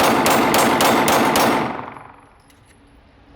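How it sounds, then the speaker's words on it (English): A Glock pistol fires a fast string of about five sharp, loud shots within a second and a half, then the echo fades into near silence. "let's pick up the pace, shoot a little bit faster here"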